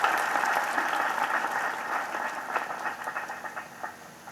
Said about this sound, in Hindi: इस कार्यक्रम जोरदार ताली देना चाहिए फादर के लिए भी